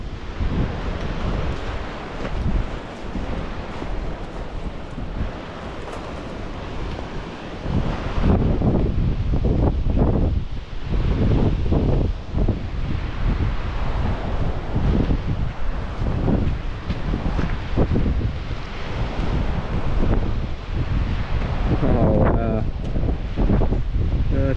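Strong wind roars steadily into the microphone on a bridge over a deep cliff in California, a constant heavy rumble that swells and gusts throughout, with no talking.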